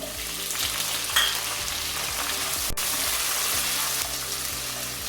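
Potatoes and chopped onion fry in a pan for Bengali alu posto, a steady dense sizzle with occasional stirring scrapes, close and continuous, with no talking.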